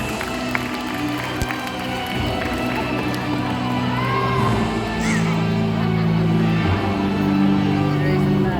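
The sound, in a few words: audience applause and cheering at a bird show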